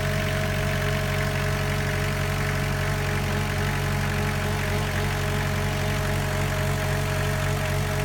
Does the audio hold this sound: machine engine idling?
yes